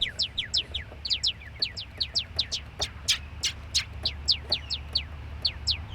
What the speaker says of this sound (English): these are our original bird sounds